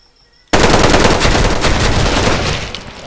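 Sustained automatic gunfire from the online shooter Special Force 2 erupts after a half-second of quiet, a loud continuous burst of rapid shots that holds steady for nearly three seconds before easing slightly.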